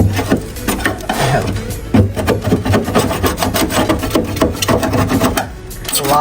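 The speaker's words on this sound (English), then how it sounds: "Lots and lots of scraping." Old glue being scraped off a wooden enclosure: loud, close, continuous rasping strokes in a fast, steady back-and-forth rhythm with no pauses.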